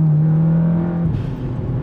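A stage 2 Audi S3 8V fitted with a GFB DVX T9659 blow off valve accelerates. A steady, close engine drone builds, then breaks into a sharp airy whoosh as the valve vents, with rougher engine noise continuing after.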